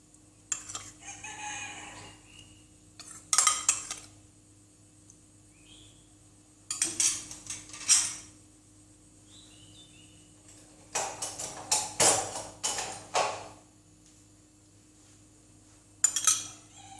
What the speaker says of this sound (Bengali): টক দই দিয়ে দিচ্ছি একটু চামচ দিয়ে ঘুরিয়ে ঘুরিয়ে দিয়ে দিচ্ছি